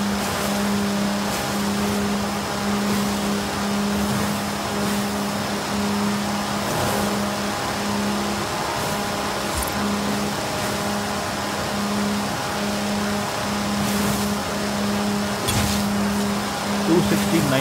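Land Rover Defender engine in Forza Horizon 5 holding a steady high-speed drone in seventh gear, a continuous loud hum with slight pitch shifts, with someone talking over it.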